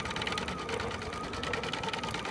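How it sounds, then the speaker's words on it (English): A computerized embroidery machine stitches an applique placement line through fabric and stabilizer for a minky quilt, giving a steady, continuous rapid needle whir at close range with no talking. "your design is going to stitch a placement line so you know where to position your"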